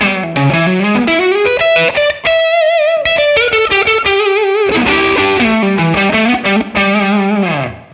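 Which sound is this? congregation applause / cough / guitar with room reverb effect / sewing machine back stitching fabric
guitar with room reverb effect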